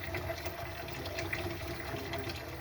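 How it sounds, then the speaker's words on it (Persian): Water gushes steadily from an opened pipe valve, a continuous close rushing flow with no speech over it. "اینقدر خارج میکنیم تا آب بیاد. آب اومد دیگه تمومه."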